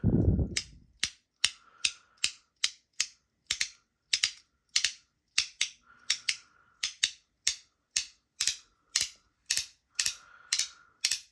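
Custom NJT Handpower pieces in Damasteel give crisp, sharp mechanical clicks in a steady, regular rhythm, each click close and distinct, with no talking.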